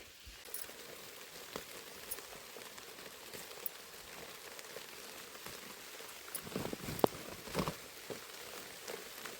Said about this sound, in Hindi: यहाँ देखिए बारिश बढ़ती ही जा रही है।